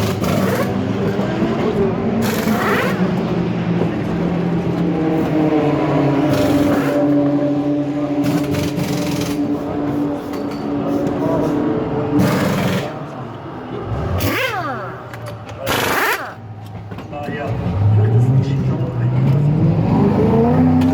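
A TCR class race car at the Nürburgring revs loudly through gear changes, its engine note rising and falling as it passes, while a commentator talks over the track noise.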